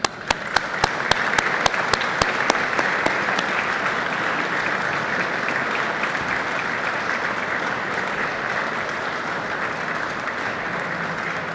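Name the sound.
audience applause at a press conference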